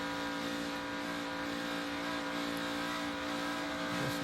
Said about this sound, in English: You can hear he was feeding the throttle there